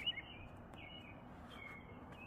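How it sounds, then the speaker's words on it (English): Faint birds chirp and whistle in a quiet outdoor yard early in the morning, a few thin calls drifting over a low steady background hum. "The birds are chirping."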